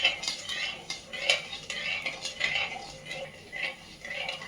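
A spoon clinks and scrapes steadily against a pan as sugar syrup for rava ladoo is stirred on the stove, a repeating rhythm of close metallic taps and rubs with no talk.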